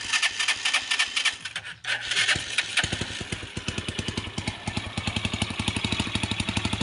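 A motorcycle engine is started: a raspy cranking scrape is followed by the engine catching into a fast, steady idle with even rhythmic pulses that stay close and loud to the end.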